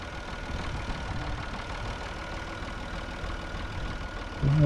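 A tractor engine idles with a low, steady chugging rumble, then a sudden louder thump or surge at the very end.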